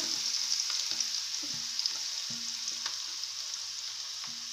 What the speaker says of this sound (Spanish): el aceite ya está caliente. A vamos a echar la cebollita